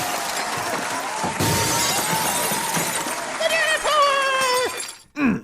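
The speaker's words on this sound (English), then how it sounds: "being the first woman to ever literally break a glass ceiling live on primetime television" Glass shatters in a staged breaking of a glass ceiling on a live primetime television broadcast: a sudden crash over voices and ringing tones, then fading tinkles.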